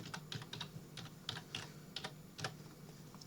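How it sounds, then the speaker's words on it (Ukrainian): Typing on a computer keyboard while entering text in Inkscape, a run of quick clustered keystrokes in short bursts, close and fairly quiet, with no voices. "Беремо інструмент текст, пишемо якийсь текст."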